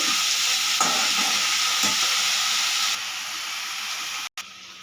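Shrimp fry in mustard oil with a loud, steady hissing sizzle, a couple of soft spatula strokes, and the sizzle easing partway through before a brief cut.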